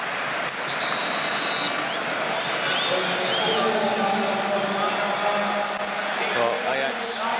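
A large football stadium crowd of nearly 50,000 at a 1996 Ajax versus Rangers Champions League match gives a departing player a big ovation, steady applause and cheering under a commentator's voice.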